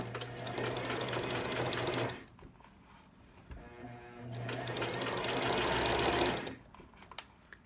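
A sewing machine stitching around a sock runs in two steady, close bursts of whirring needle chatter, separated by a short quiet pause with light handling clicks, then stops.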